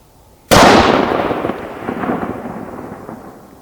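Long-range rifle firing a Lapua 105 Scenar bullet outdoors at about 1250 yards, one loud sharp crack followed by a long rolling echo that fades away.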